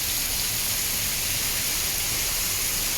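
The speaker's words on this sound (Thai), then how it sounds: "ฝนตก ก็บรรยากาศชิวๆเย็นดีเนาะ" Steady rain falls in the afternoon at a rural home, a dense, even hiss of drops on surfaces that fills the whole stretch without pause and with no other sounds.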